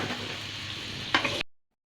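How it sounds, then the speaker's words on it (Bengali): Potatoes coated in turmeric, salt and chilli powder fry in hot oil with a continuous close sizzle, a brief utensil scrape near the end, then the sound cuts out abruptly. "এবারে আমি আলুটা ভেজে নেব।"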